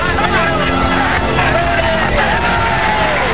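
A dense crowd of angry white onlookers in Chicago shouts and jeers at civil rights marchers joined by Martin Luther King Jr. The roar of overlapping yells and whoops stays loud and constant throughout, with a muffled, old-recording quality.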